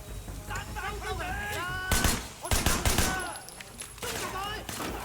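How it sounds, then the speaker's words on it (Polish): Gunfire in the video game Sleeping Dogs: several loud bursts of shots crackle in clusters over a busy game soundtrack, with a voice talking at times. "Tam ktoś jeszcze do mnie strzela spod kąta"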